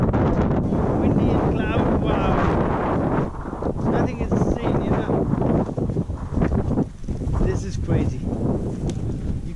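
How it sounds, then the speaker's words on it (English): Strong gusty wind buffets the microphone in loud rushing waves on a cloudy mountain trek at Pikey Peak, Nepal, with a voice speaking intermittently beneath the roar. "And it's kind of windy."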